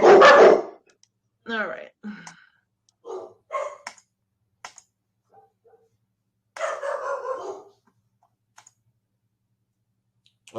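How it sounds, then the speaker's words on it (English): Dogs bark and yelp in several short loud bursts near the start and middle, separated by quiet gaps, while a person speaks briefly. "while their dogs are going nuts there"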